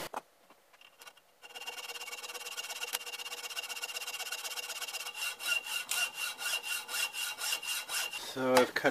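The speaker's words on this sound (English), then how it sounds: "So I've cut down pretty far on each side below the level of the hacksaw blade" A hacksaw cuts through the steel laminations of a transformer, first as a faint continuous scrape and then as clear, rhythmic back-and-forth rasping strokes, close up with no talking.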